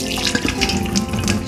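A tap runs into a kitchen sink in a house in Yogyakarta, a loud, close, continuous splashing gush of water with no talking.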